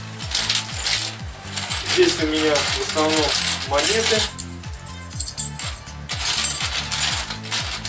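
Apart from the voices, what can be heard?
metal coins clinking together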